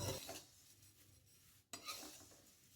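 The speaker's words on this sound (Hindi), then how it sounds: "लगातार सब तरफ से चलाते हुए ही भूनना है" Flattened rice (chuda) is stirred while roasting in a pan, giving soft, quiet scraping and rustling strokes with one sharp scrape partway through.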